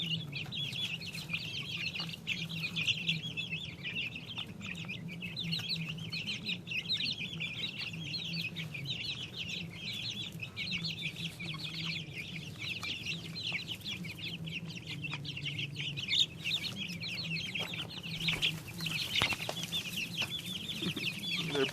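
Red Ranger broiler meat chickens in a greenhouse chicken tractor cluck and chirp continuously, a soft busy chorus of many birds with a low steady hum beneath.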